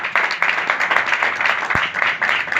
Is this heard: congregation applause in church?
yes